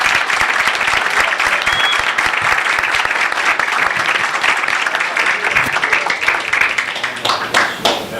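At an aviation safety panel on fatigue, an audience breaks into loud, sustained applause, a thick continuous roar of many hands that thins into a few scattered claps near the end.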